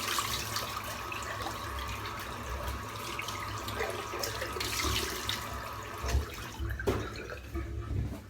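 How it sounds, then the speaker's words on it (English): Cold water runs from a tap and splashes during rinsing after a head shave, a steady close faucet stream with brief splashes and drips near the end. "quick splash of cold water"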